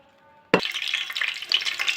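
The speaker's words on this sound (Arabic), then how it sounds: "وهبدا احمر البصل" Onions dusted with starch hit hot oil in a tray and burst into loud, steady sizzling and crackling frying that continues unbroken after a quiet start, with no talk.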